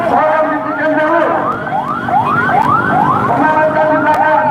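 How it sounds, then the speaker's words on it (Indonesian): Ambulance siren wailing nearby at a student protest in Indonesia, a loud, repeated rising-and-falling whoop over crowd and traffic noise, with voices in the background. "Dan ada ambulan di belakang. Tolong diberikan jalur."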